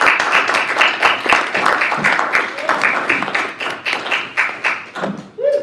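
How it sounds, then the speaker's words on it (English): A church congregation applauds, with dense, steady clapping that swells and fades in waves for several seconds before a voice briefly cuts in at the end. "Let's give her a round of applause."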